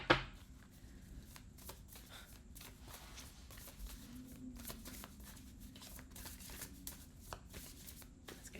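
Astro cards are shuffled by hand, a quiet close run of quick riffling flicks and soft paper slaps in irregular bursts, opening with a sharper tap, with no speech.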